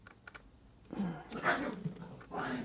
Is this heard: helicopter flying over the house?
no